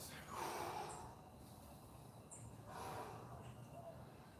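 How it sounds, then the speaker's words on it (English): Deep recovery breathing after an at-home arm workout, with two long, airy inhale-exhale swells rising and fading close to the mic, no talking. "Working your recovery breath. Giant inhales and exhales."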